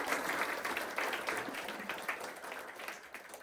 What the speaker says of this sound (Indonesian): Kasih tepuk tangan dulu ke tim R&D.